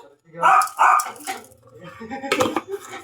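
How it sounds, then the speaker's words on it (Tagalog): An angry dog barks in a kitchen where food is being cooked, a few loud, close barks followed by yips, with a woman's speech underneath. "Galit talaga ng asong ito."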